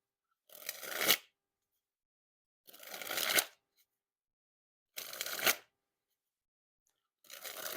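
Freakshow playing cards are dribbled from hand to deck in four separate bursts, each a quick crisp flutter of cards falling, close and fairly faint with short silences between.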